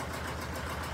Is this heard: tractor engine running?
yes